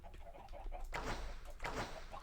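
Chickens hatched from thrown eggs in Minecraft, giving short clucks: a few soft clucks first, then two louder bursts of clucking close by, with quiet background noise between.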